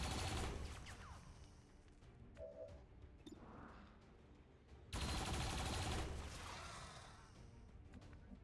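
A turret fires in XCOM 2 in two loud bursts, each a dense rattle of shots with a crash, split by a short quieter pause. Nobody speaks.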